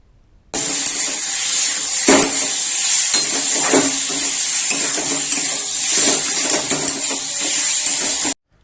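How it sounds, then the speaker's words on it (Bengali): Fried potatoes are stirred into spices in a hot pan, a loud hissing sizzle broken by repeated scrapes and clanks of a spoon against the metal, starting abruptly and ending just as suddenly. "এবার ভাজা আলুগুলো মশলার মধ্যে দিয়ে আলুর সাথে মশলাটাকে কষিয়ে"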